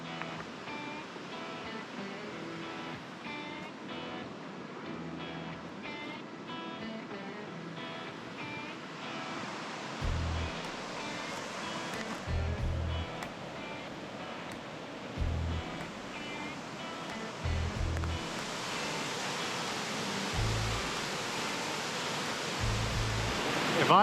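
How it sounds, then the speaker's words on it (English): A large waterfall in North Cascades National Park gives off a steady, hissing roar, faint and continuous, with a few soft low thumps rising through it now and then. "I know this is the biggest waterfall I've ever seen"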